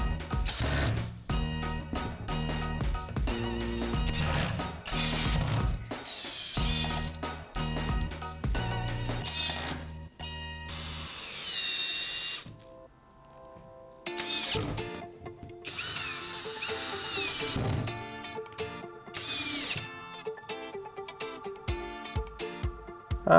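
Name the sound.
drill used as a screwdriver driving screws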